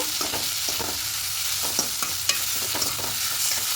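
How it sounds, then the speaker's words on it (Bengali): Onions frying in a pan with sesame and poppy seeds: a steady hiss of sizzling oil with scattered scrapes and taps of a spatula stirring, close and continuous, no voices. "এভাবে আর একটুখানি ভেজে নেব"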